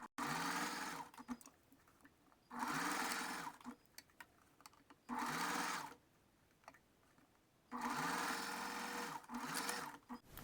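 A sewing machine stitches the seam of a bra cup in four bursts of steady mechanical whirring, separated by short pauses. It is close and fairly quiet, with no voices.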